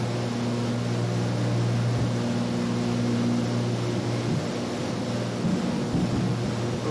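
A Piper Turbo Arrow in the X-Plane video game raises its flaps and gear over a steady engine and propeller drone, with a faint mechanical whir running under the constant cabin hum.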